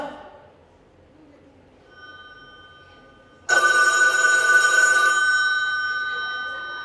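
A telephone bell rings loudly and steadily at a live charity cabaret show in Orp-Le-Grand, bursting in abruptly after a quiet stretch with a faint tone and continuing to the end.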